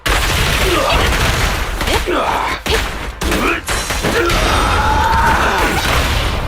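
Rapid bursts of gunfire from the video game Zenless Zone Zero, loud and dense amid clashing impacts and crashes, with a voice speaking over the chaotic combat.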